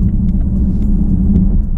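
A 2018 Alpina B7 accelerates, its engine a loud, steady low rumble from inside the car over a short stretch without talk.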